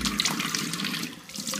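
Tap water runs steadily into a sink while face product is washed off, a close, continuous hiss and splash with no talking.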